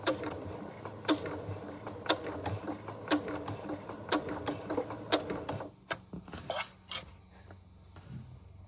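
A sewing machine stitches a flying geese quilt seam with regular mechanical clacks about once a second, then stops and gives a few quieter clicks and handling sounds near the end.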